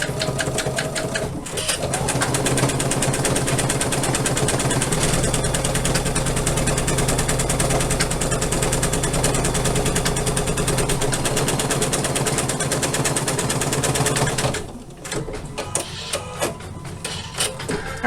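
An embroidery machine stitches a composition book cover in the hoop, a close, steady rapid mechanical whir and needle chatter running for about fourteen seconds before stopping, leaving faint clicks.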